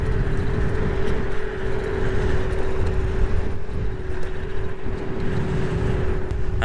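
Kugoo M4 Pro electric scooter riding and slowing down, a steady motor whine with road and wind rumble that holds fairly loud throughout.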